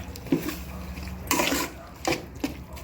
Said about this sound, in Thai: แล้วก็ผัดคลุกเคล้าให้เข้ากันนะคะ